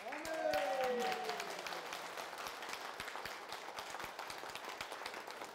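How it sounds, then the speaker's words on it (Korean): A congregation claps together at a Korean church prayer service, with a voice briefly calling out at the start before steady, sustained clapping continues at moderate distance. "응답 주신 하나님께 박수로 영광"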